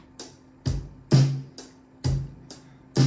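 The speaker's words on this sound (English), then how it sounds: "the whole drum set would sound like this when they really kick in" A drum kit plays a steady beat of punchy kick and snare hits with crisp cymbal sizzle, close and loud, no talking.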